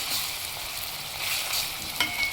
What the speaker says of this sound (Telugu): అల్లం వెల్లుల్లి పేస్ట్ అంతా వేగిందండి